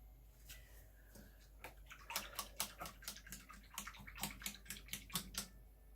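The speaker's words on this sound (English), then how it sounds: "Washing off my brush." A paintbrush swished and tapped in a water cup, a fast run of close splashy clinks and sloshes after a quieter start, no talking.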